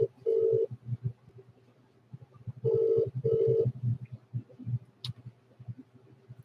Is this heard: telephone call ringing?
yes